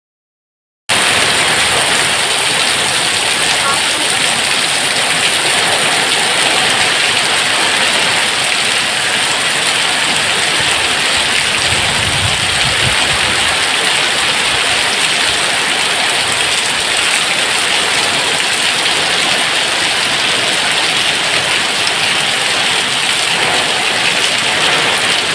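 Heavy rain lashes down around a house in India during a violent monsoon storm, a loud, unbroken roar of downpour lasting the full length with no voices.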